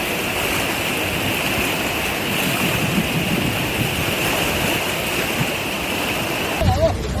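Rushing floodwater of a flash flood in Głuchołazy, Poland, a loud, continuous broadband roar of churning water, steady and close throughout with no pauses.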